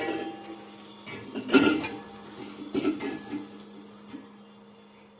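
A small child bangs and rattles a metal tiffin box in a home kitchen, producing a few loud clattering knocks at irregular intervals over a steady low hum, close by, with no talk.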